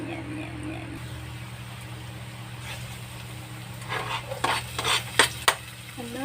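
Ingredients sautéed in a pan in a Filipino home kitchen: a quiet background hiss first, then several sharp scrapes and clinks of a utensil against the pan toward the end.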